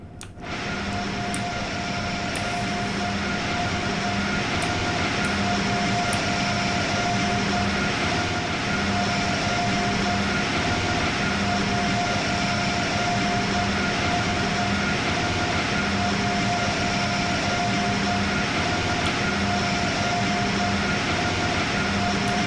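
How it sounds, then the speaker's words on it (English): Cab of an Acela train in Train Sim World 4, a loud steady electric drone with sustained tonal hums and a faint rhythmic wheel beat underneath, continuous and unbroken with no talking. "it's a good drive to get back into the cab of the Acela"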